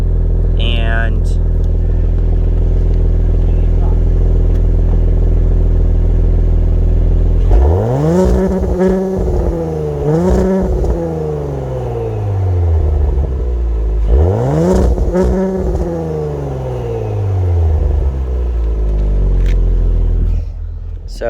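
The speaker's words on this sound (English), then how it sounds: "the sound of the exhaust isn't over the top, but it does have a slight gurgle to it" A 2021 Audi S5 exhaust idling then revving twice, each rev climbing sharply and falling back with a slight gurgle, close and loud, with a voice speaking briefly at the start.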